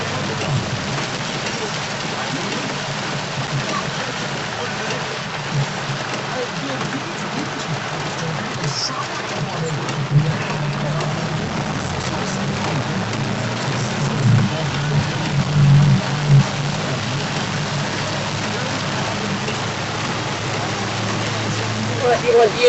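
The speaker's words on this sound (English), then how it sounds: "All the hail stuff, it's just rain again." Torrential rain drums steadily on a 4x4 car driving home after hailstones, a dense, constant hiss with low road rumble inside the cabin, while people talk occasionally underneath.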